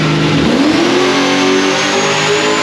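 A 1000hp supercharged LSX V8 in a VN on a chassis dyno, revving loud and close with a rising engine note that climbs and then holds at high RPM.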